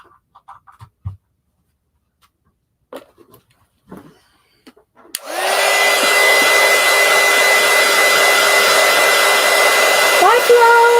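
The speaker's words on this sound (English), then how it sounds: "let's go ahead and hit this with the heat tool" An electric craft heat tool blows hot air over a collage art journal, switching on after a few quiet handling clicks into a loud, steady whooshing hum that runs unbroken for several seconds before a slight dip near the end.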